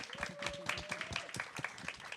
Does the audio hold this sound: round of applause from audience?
yes